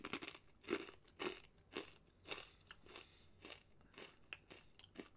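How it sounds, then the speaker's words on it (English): Someone chews a thin, crunchy soy-sauce-flavoured Japanese puffed rice cracker, giving a series of close, faint crisp crunches in an uneven rhythm, each bite followed by softer crackling, with no talking. "Super, super crunchy on the inside because it's kind of thin"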